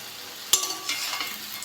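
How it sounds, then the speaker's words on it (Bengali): Pieces of paneer made from jackfruit seeds fry in hot mustard oil, a sharp clink of a utensil giving way to a steady close sizzle as they are turned. "উল্টে পাল্টে ভালো করে ভেজে নেব।"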